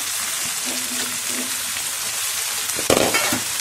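Chopped capsicum and tomato fry in butter in a pan on a tava, giving a steady, fairly loud sizzle, with a sudden clatter of stirring near the end.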